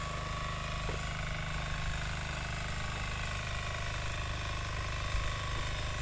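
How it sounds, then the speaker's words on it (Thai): A generator running steadily to power an electric water pump at a flooded construction dig, a continuous low engine drone with a mechanical hum, moderately distant and unbroken, with no talk. "เสียงที่ท่านได้ยินก็คือเสียงเครื่อง ปั่นไฟเพื่อสูบน้ำนะครับ"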